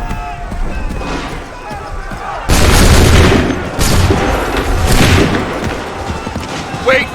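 A musket volley thunders in Assassin's Creed III, first as a sudden heavy burst and then as further booming waves of massed fire. Game voices and battle noise continue underneath.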